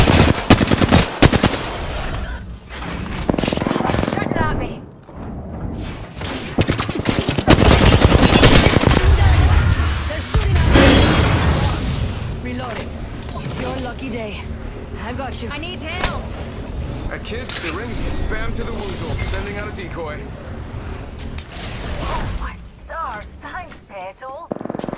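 Apex Legends gunfire rattles in rapid automatic bursts and scattered single shots, loud and close, with in-game character voice lines and effects layered among the shooting throughout.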